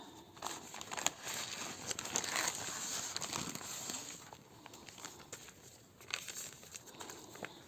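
A parcel of seeds being cut open, close crinkling and rustling of packaging with small tearing and crackling bursts, fairly faint and irregular.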